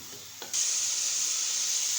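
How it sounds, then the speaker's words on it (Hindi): Beef frying with green chilies and ginger garlic paste, a soft hiss that jumps to a loud steady sizzle about halfway in as the paste hits the pan, close and without talking. "इसको 2 से 3 मिनट भूनेंगे।"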